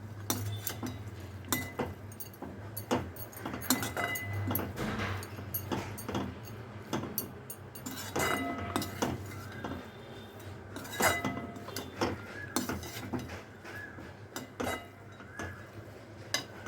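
Drumstick leaf stir-fry with freshly grated coconut being stirred in a pan, giving repeated clinks and scrapes of a utensil against metal, moderately close, irregular and steady, with no talk.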